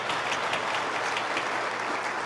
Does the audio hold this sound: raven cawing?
no